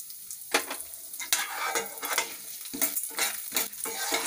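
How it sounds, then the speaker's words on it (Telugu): Lentils and spices fry in a pan over a low flame while a spoon stirs them, giving soft scraping strokes over a light continuous sizzle, close up with no voices. "ఇలా లో ఫ్లేమ్లో పెట్టుకొని ఇలాగా కలుపుతూ ఉంటే చక్కగా ఫ్రై అవుతాయి"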